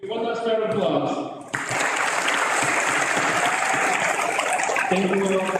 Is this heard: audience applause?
yes